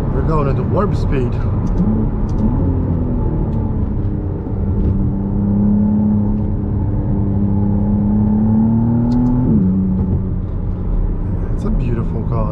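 A McLaren Artura sports car drives along with a steady, humming engine drone heard from inside, its pitch rising and falling slightly as the throttle changes.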